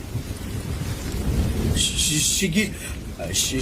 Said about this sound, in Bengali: আকাশে তখনও মেঘ ডাকছে, ঝিরিঝিরি বৃষ্টি পড়ছে।